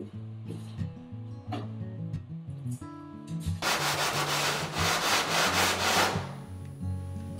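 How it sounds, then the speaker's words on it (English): Jigsaw cutting a hatch opening in a wooden kayak deck, a rough, rasping burst of cutting that swells in the middle for a few seconds over a steady tonal background. "jigsaw blade, we're going to carefully cut out the hole that's going to be our hatch opening"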